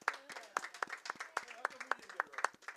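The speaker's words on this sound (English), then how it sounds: "Let's have a round of applause here." A small audience at a club challenge finals claps sparsely, with distinct, separate handclaps in an uneven rhythm and voices talking over them.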